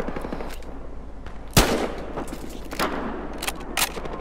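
Gunfire from the video game Battlefield Hardline, a loud burst of automatic shots with a sharp blast near the middle, followed by scattered clicks and clatter of a weapon being reloaded.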